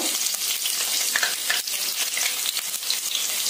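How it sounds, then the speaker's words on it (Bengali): Potato pieces fry in hot, water-wet oil that splatters hard, a dense continuous crackling sizzle, loud and close, with sharp pops scattered throughout and no voices. "এবার আলুগুলোকে লাল লাল করে ভেজে নেব।"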